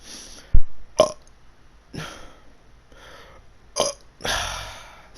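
Several short, close burps come one after another, with soft breathy sounds and small throat noises in the gaps, and no talking.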